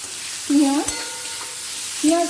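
Katla fish head frying in mustard oil in a pan, with a constant low sizzle and brief stirring, broken twice by short tonal voice-like sounds.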